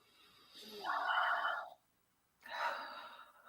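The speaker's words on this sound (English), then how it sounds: "They're breathing." Two long, close breaths drawn into a microphone, each a soft rushing exhale separated by a brief silence, fairly quiet and with no talking.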